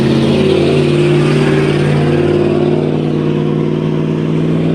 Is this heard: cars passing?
yes